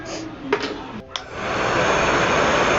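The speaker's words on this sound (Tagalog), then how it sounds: "I-blower na natin yan" A hair dryer switches on and blows with a steady, loud whooshing roar after a few brief bumps and clicks, close by.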